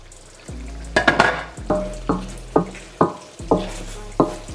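Spaghetti with mushrooms stirred in a pan in Pinoy-style cooking, a run of rhythmic scraping strokes of a utensil against the metal, each followed by a brief sizzle, close and loud with no voices.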